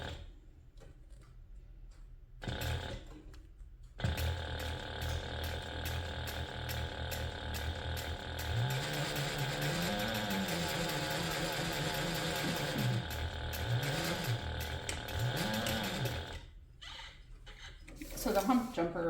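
A sewing machine stitches leather for a handbag, running in a long steady mechanical whir after a few short starts, with stops and restarts toward the end and a voice heard softly at times.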